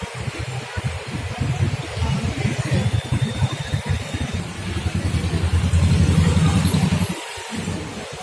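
Street traffic in Aizawl, with cars and motorbikes passing close by during lockdown, a continuous, fluctuating engine rumble that swells as vehicles go by.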